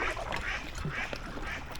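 Ducks on a canal quacking in several quick overlapping calls, nasal and fairly close, over a low background of water and outdoor noise.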